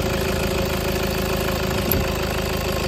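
A hot Toyota Fortuner diesel engine idles in a steady, loud, close drone with an even low knocking pulse throughout, and no voices.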